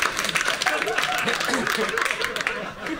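Dense, steady audience clapping fills a French stand-up comedy television segment, loud and close. It runs unbroken for about three seconds and fades slightly at the end.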